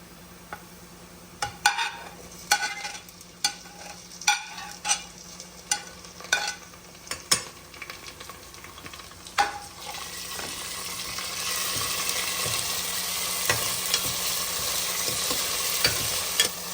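Browned onions and tomatoes for mutton biryani cook in a cooker, with sharp intermittent clinks and scrapes of stirring at first, then a steady hissing sizzle that builds and holds.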